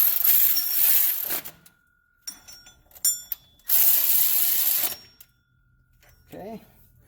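A ratchet tightens bolts on a tensioner pulley on a 2004 Toyota Tundra, giving two long runs of rapid, close metallic clicking. Short pauses and scattered single clicks fall between the runs.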